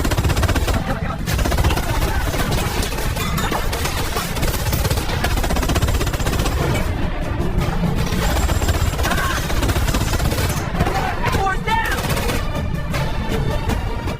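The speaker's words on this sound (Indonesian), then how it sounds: "Boy pun tewas ditembak Bullet" Rapid gunfire crackles continuously in a dense, chaotic barrage, with bursts of automatic fire layered over a loud, noisy background.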